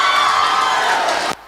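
A college audience greets a first-year student dance team with a loud, dense burst of cheering and clapping that fills the space, then cuts off abruptly.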